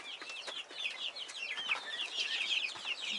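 Legbar hens and a Legbar rooster cluck and chirp in a continuous busy chorus, several birds close by with overlapping calls and no talking.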